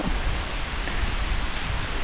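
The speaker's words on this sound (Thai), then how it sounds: "ตอนนี้ฝนตกแล้วเจ้า" Heavy rain pours down steadily during a storm on a river fishing trip, a dense, even hiss of falling water without breaks or voices.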